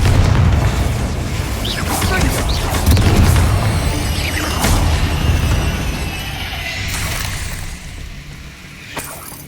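Confringo blasting spell explosions in the Hogwarts Legacy video game: loud booming blasts and crashing bursts over a dense, rumbling game soundscape, with a sharp pop near the end.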